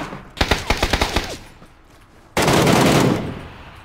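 Video game gunfire, likely from an MK14 rifle: a rapid burst of about eight sharp shots, then a dense, loud roar of sustained firing after a short pause.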